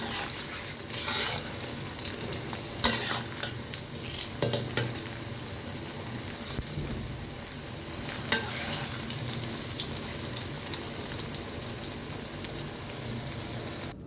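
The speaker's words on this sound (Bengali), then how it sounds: "তো এই যে আমার পাকোড়াটা ভাজা ফ্রাই হয়ে গিয়েছে" Pakoras deep-fry in hot oil for an iftar meal, with a continuous bubbling sizzle broken by several bursts of scraping and stirring clatter.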